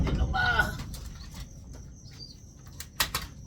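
Banded racing pigeons in a loft, with soft cooing and a few chirps and wing sounds, loudest near the start, over quiet background noise.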